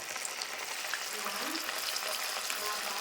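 Cauliflower pieces for gobi 65 dropped into hot oil, giving a steady, fairly quiet frying hiss and crackle that holds throughout, with faint background voice.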